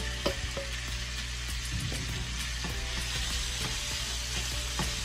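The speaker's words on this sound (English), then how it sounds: "The pan is still hot, so go ahead and add your steak." Steak frying in a hot oiled pan, a steady close sizzle with scattered crackles and pops throughout, no talking.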